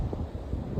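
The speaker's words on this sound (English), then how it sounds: "It's very windy" Gusty wind buffets a microphone outdoors on a late-February putting green in Ohio, a steady low rumble with swelling gusts and no talk.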